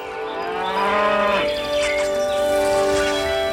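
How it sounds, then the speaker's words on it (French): A cow moos loudly and close, a single long drawn-out low call that rises slightly and holds steady, heard alone without talk. "Elle préfère parasiter un animal plus gros, un mammifère par exemple, comme cette vache."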